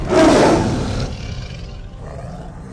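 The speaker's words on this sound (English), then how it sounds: "the largest cat living today, the tiger" A single loud, deep tiger roar that swells, then fades into a lower rumbling growl, close and alone.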